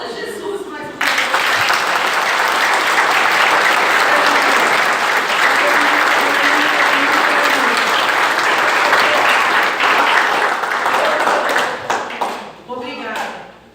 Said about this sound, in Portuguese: Então, aplauda Jesus mais uma vez.